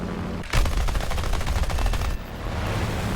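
In the War Thunder video game, the guns of an A7M1 (NK9H) aircraft fire a dense, rapid burst of about a second and a half, loud and close over the constant hum of the engine, with no talk.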